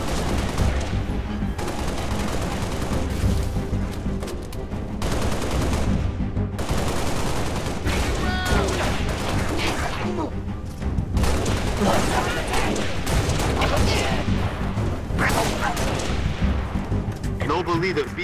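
Sustained gunfire and artillery-like blasts from a Halo: The Master Chief Collection battle against the Covenant, loud and continuous throughout with dense overlapping shots, and a voice calling out over the combat.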